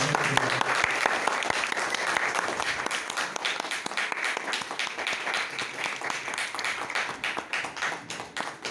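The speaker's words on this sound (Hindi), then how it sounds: "कृपया जोरदार ताली से स्वागत करें।" A theatre audience at a festival applauds to welcome guests, sustained dense clapping with sharp individual claps standing out and continuing steadily throughout.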